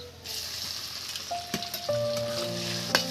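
Spiced masala and tomato frying in a wok for potato dum, a loud continuous sizzle with stirring scrapes and a few sharp clinks near the end.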